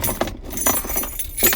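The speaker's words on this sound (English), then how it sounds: "you can set the key fob right in there. When it has keys attached, it's a little more difficult" A car key fob with a bunch of keys attached is set down into a vehicle's cup holder, giving several short metallic jingles and clinks spread across a second and a half, close by.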